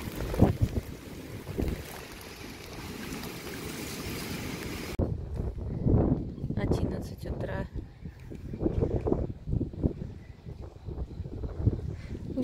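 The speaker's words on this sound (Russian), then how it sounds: "Ветер еще дует" Strong wind from Typhoon Maysak blows outside a window, a steady broadband roar for the first several seconds that then sinks beneath people talking nearby.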